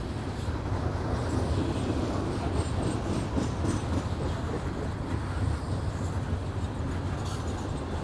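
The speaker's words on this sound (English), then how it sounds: "That's a long coal train." A long coal train rolling past at a rail crossing in Columbus, a steady loud rumbling roar with faint rhythmic clatter that holds at an even level without fading.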